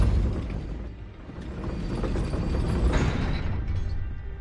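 A Depulso spell cast in Hogwarts Legacy gives a sustained, loud rushing burst of broad magical force with a mechanical, grinding texture, swelling midway and alone with no voices.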